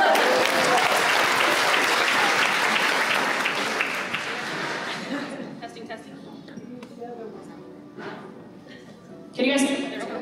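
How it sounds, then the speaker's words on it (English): Audience applause at a women's empowerment brunch, a dense burst of clapping that fades out over about five seconds, followed by scattered clinks, murmurs and a brief voice near the end. "Yeah, I guess we clap for that."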